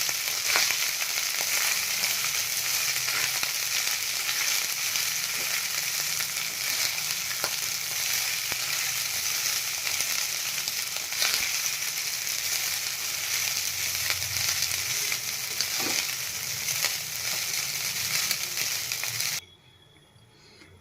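Boiled rice sizzles and is stirred in a hot pan for South Indian lemon rice, a steady close frying hiss with occasional scraping, ending abruptly near the end.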